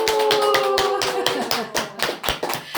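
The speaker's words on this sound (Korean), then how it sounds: "우리 환호성의 박수를 한번 크게" Audience claps at a Buddhist temple ceremony at Singwangsa, with a brief burst of sharp hand claps. The claps are close and slightly uneven, about a dozen in under three seconds, with no talking.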